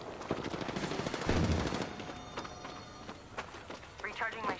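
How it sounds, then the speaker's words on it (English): Gunfire in the video game Apex Legends, with rapid automatic bursts crackling through the first two seconds and sporadic single shots afterward, set against background game effects. "Getting shot at."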